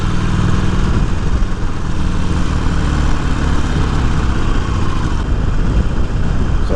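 A 2020 Harley-Davidson Iron 1200 motorcycle on the move, its engine a loud, steady low rumble with continuous wind and road noise throughout.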